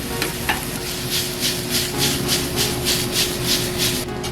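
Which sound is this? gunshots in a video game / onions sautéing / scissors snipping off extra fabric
onions sautéing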